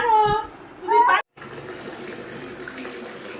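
Tap water runs into a baby's personal bathtub as a bath is readied, a steady close gush lasting after a brief pause, with a woman's speech at the start.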